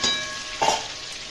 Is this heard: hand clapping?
no